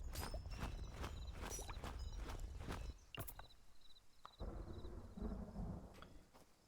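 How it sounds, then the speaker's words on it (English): Rain and thunder in the video game Unexplored 2: steady hiss of rainfall with rumbling, cracking thunder bursts and some thudding footstep-like impacts, loud and continuous throughout. "It is raining."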